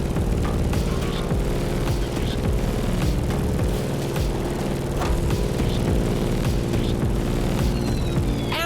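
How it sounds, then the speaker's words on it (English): Grumman F8F Bearcat propeller plane flying in a racing video game, a steady loud engine drone held throughout with a rough, buzzing low rumble and no voices. "In the cockpit of a stunning Grumman F8F Bearcat"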